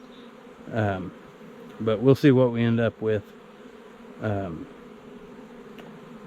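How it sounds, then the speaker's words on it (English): Many bees from a wild hive in a storm-fallen tree buzz as a constant close drone throughout, while someone talks over them in short bursts. "there's way more bees here than what's going to fit in that nook"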